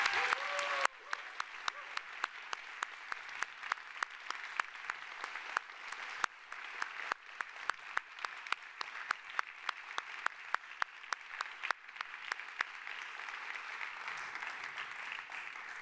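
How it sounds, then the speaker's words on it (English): A crowd at an awards event gives steady, sustained applause welcoming the finalists, a dense wash of clapping with a brief voice at the start. "join me giving them a thundering applause"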